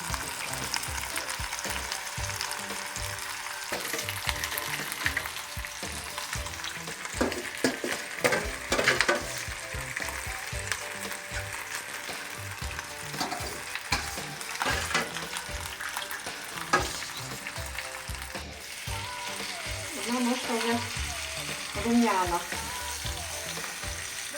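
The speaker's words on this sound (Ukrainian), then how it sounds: "І буду смажити на олію великою." Vegetables frying in a large amount of oil for a Bavarian-style pork knuckle, a steady close sizzle with intermittent stirring clatter running throughout.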